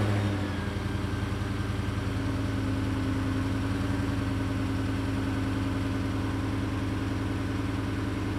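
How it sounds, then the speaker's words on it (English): A 2023 Ford F-150 Coyote V8 pickup with a Corsa Extreme cat-back exhaust idles steadily after a cold start with a low, even rumble throughout, no revving, recorded close up with no voices. "That way we can get an idea of what it sounds like cold start."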